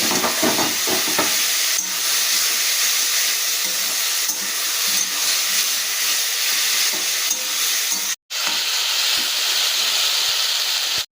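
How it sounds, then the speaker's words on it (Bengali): Potatoes and onions with salt, turmeric and spices sauté in a pan, a steady loud sizzle with scraping stirs throughout, briefly cut off near the end before resuming. "এবার ভালো করে আমি মশলাটার সঙ্গে আলু পেঁয়াজটা কষিয়ে নেব"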